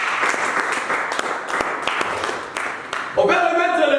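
A church congregation breaks into applause during worship, dense broadband clapping filling the space with a few sharper claps standing out, followed near the end by a louder swell of cheering voices and singing.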